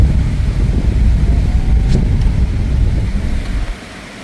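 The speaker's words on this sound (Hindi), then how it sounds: "जंगल में बारिश की आवाज़ बहुत मस्त लग रही है" Dense, steady rumble of monsoon rain and wind in the Gir forest jungle fills the air throughout, broad and constant, fading slightly toward the end.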